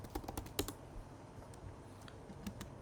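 Quick bursts of typing on a computer keyboard, a cluster of crisp close key clicks at the start and a few scattered taps later, quiet and alone against faint room noise.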